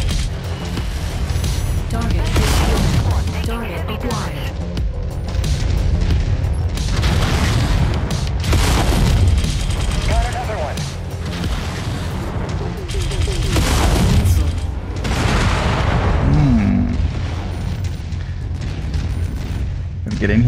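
Missile salvos launched from a mech in the MechWarrior 5 video game, heard as repeated loud booms and rumbling blasts layered over continuous battle noise, with game radio chatter speaking through it.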